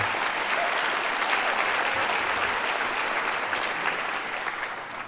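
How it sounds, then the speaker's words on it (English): Crowd applause during Cleveland's State of the City 2024 address, dense and continuous clapping from a large audience that holds steady and then begins to taper toward the end, with no speech on top. "That deserves a round of applause."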